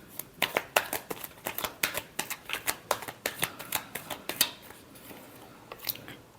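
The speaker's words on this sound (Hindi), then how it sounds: "Last shuffle." Playing cards shuffled in a quick riffle of sharp, crisp flutters, about twenty close snaps in steady rhythm for four seconds before trailing into quiet rustle.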